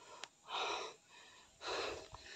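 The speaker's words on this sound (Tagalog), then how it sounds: "medyo hinihingal ako" Two long, breathy exhalations of out-of-breath panting, heavy and close, with a short sharp intake between them and no speech.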